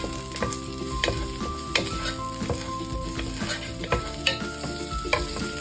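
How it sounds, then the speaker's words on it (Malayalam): Masala for paneer butter masala stirred in a frying pan, a steady sizzle under frequent sharp metallic scrapes and clinks of the spoon, close and lively. "മിക്സ് ചെയ്തതിന് ശേഷം ഒരു 5-10 സെക്കൻഡ് മിക്സ് ചെയ്താൽ മതി"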